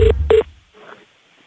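Two short, loud telephone keypad tones sound in quick succession, set to music, then fade into a faint low murmur.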